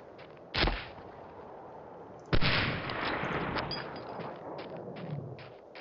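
Two sharp sniper rifle shots crack out in the World War II shooter Medal of Honor Allied Assault, the first brief and the second followed by a long rumbling echo and scattered distant noise.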